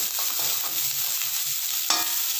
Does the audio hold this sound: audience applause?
no